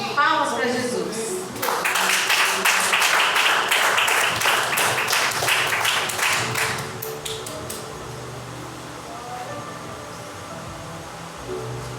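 A church congregation claps in a dense burst of applause for the first several seconds, which then thins out into scattered claps and room noise with voices.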